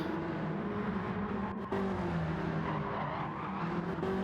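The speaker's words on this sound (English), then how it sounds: "As you can hear these guys slipping and sliding around on those worn tires." GTO race cars at Brands Hatch slide on worn tires, with a steady engine roar and a sustained tire squeal rising under it, fairly distant and without any talk.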